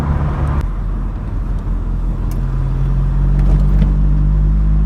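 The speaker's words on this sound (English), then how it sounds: "So just driving through Whaley Bridge in the high peak." A 1984 Vauxhall Cavalier mk2 driving through a small Peak District town, its engine a steady low drone with road and tyre rumble that swells slightly in loudness, continuous and close from inside the car.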